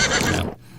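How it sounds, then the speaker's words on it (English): A horse whinny played as a podcast sound effect, one loud shrill neigh lasting about half a second before cutting off into near silence. "We've only ever been known for horse noises on this podcast"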